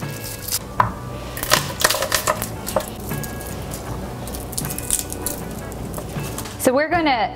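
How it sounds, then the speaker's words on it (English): A knife slices an onion into thin strips on a cutting board, giving a run of close, uneven cuts and taps that continue steadily, with a short louder clatter near the end. "We're gonna slice them pretty thin, just like a little wedge."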